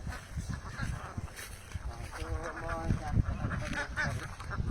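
A flock of ducks quacks continuously nearby at a duck-rearing site, overlapping calls mixed with general outdoor background noise.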